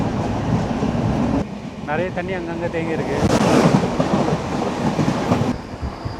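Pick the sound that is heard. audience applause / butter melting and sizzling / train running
train running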